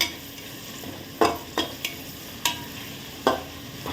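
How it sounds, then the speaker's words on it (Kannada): Onions fry in ghee and oil under a steady soft sizzle while a spoon scrapes and stirs the pan in several distinct strokes, close and clear with no talking. "ಈರುಳ್ಳಿ, ತುಪ್ಪ, ಎಣ್ಣೆಗೆ ಚೆನ್ನಾಗಿ ಫ್ರೈ ಆದಮೇಲೆ"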